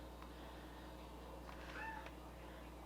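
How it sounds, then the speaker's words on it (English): A cat gives a single faint, short meow in the background, distant and brief, over steady low room hum at night indoors. "I'm sorry if y'all can hear my cat in the background."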